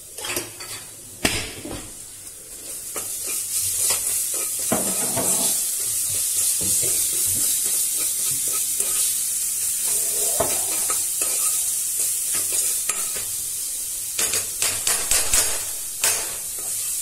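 Spices with ginger powder fry in a pan for capsicum lababdar, a steady sizzle under repeated scraping and clinking of a spoon stirring against the metal, with several sharper knocks toward the end.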